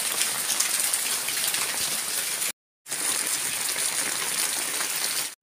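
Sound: rainwater dripping from houses

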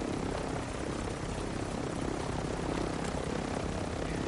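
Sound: loud helicopter in video game Warzone 2.0

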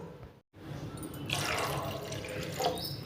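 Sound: pouring a glass of water into the pot

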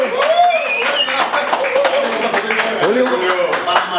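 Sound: applause for technical staff member Julio

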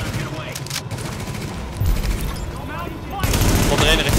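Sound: gunfire in The Division video game

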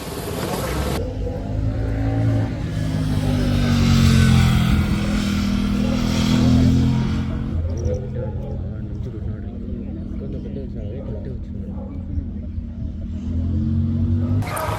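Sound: racing cars at a car race in Bangalore

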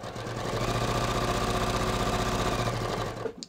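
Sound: sewing machine sewing pants seam down to gusset

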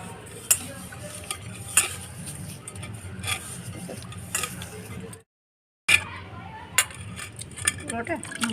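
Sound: stirring sugar to dissolve in wood apple sherbet

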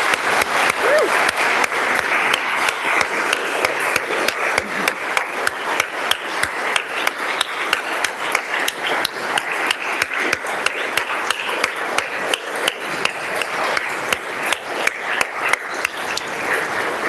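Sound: applause from members in a legislative chamber

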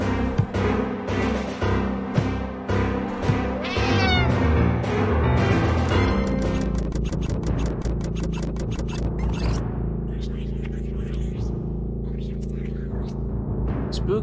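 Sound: cat meowing in Friday the 13th: Killer Puzzle video game

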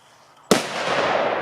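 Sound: firecrackers exploding, Piratka and Tytan 1 bangers

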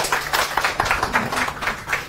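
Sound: audience applause

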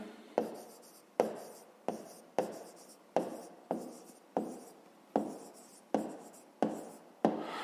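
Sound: writing a math solution by hand

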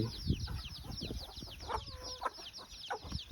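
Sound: chickens clucking while being fed

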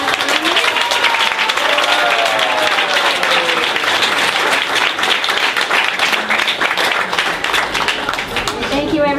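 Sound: audience applause

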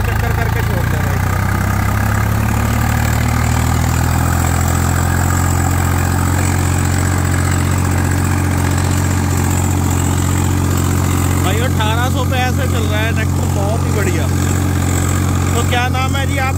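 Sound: Swaraj 4 wheel drive tractor engine running

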